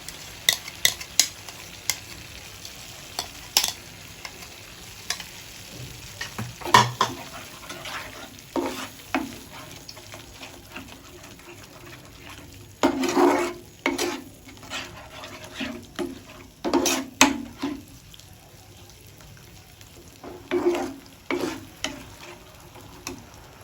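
A spoon stirs whisked yogurt into eggplant frying in a pan for a Bengali curd-eggplant dish, giving intermittent scraping clatters and soft wet sloshes over a low, steady sizzle, close by, with no talking.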